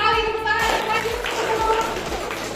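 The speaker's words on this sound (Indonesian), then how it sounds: "Tepat sekali, tepuk tangan." Students clap in a classroom in a short burst of brisk, close clapping. It starts right after a brief spoken word, with children's voices mixed in.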